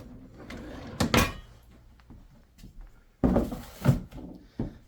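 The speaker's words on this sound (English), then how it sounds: "Drawers are smooth." Kitchen drawers in a house with a gas double-oven stove slide open and shut, giving a few distinct wooden thunks and bumps in two clusters with quiet room pauses between.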